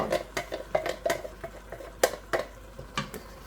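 A spoon stirs canned crushed tomatoes in a cooking pot for a homemade cannelloni sauce, with a run of close, evenly spaced scraping and clinking strokes against the pot's sides.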